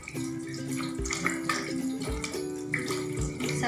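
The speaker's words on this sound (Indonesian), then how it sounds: "bilas dengan air bersih dan mengalir" Hands are rinsed under clean running tap water with a steady splashing flow, close by. A low tonal hum of background music runs underneath and periodic soft thumps interrupt it.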